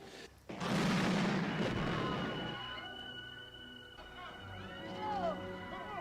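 A bomb goes off in the 1985 film Brazil: a sudden loud boom that rolls into a long, fading rumble with debris noise, then a quieter ringing aftermath.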